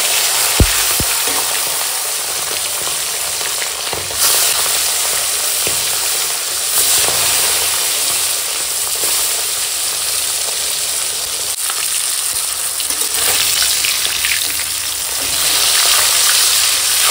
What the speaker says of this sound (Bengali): তো চলো এখন মুড়োটা আগে ভেজে নেব। মুড়োতে তো লবণ হলুদ দিয়ে দিয়েছি। এবার তেল গরম হয়ে গেছে।